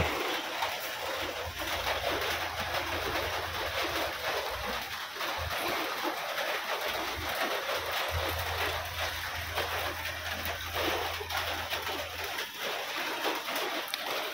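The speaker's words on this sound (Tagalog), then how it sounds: "Walang tigil yung ulan." Continuous rain falls hard during work on a bamboo-walled kitchen, a dense steady hiss that never lets up, with a low rumble underneath.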